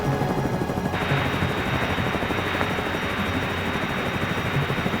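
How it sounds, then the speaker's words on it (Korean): A US military rescue helicopter hovers overhead at night above an airliner crash site, its rotor making a loud, steady, dense chopping roar that fills the whole stretch without pause. "미군 구조헬기가 추락 지점 상공에 도착해 루프를 내리려 했습니다."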